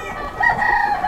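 Sonali breed desi chickens on a poultry farm, a short close burst of loud clucking and crowing-like calls from the fowl.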